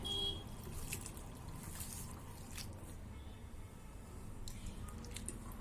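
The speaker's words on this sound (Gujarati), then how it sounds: "આ રીતે ચોખ્ખું પાણી ન આવે ત્યાં સુધી ખમણને આપણે ધોવાનું છે." Grated potato is washed by hand in a bowl of water, giving soft, faint squishing and dripping sounds with gentle sloshing throughout and no talking.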